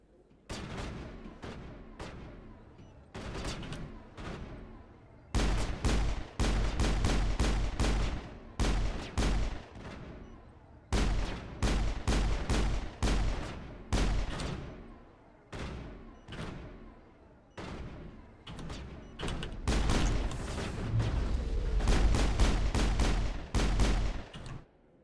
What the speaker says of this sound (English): She was just shooting Rex.